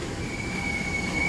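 Argo Bromo Anggrek passenger train at a busy Jakarta station, a steady close rolling rumble with a thin, sustained metallic wheel squeal running through it.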